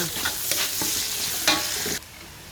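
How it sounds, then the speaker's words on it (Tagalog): Garlic and onion frying in a pan under steady stirring, with a constant loud sizzle and repeated scraping strokes of the spoon that stop abruptly near the end. "Isunod natin yung ating sibuyas. Yan. Ikus-ikus natin."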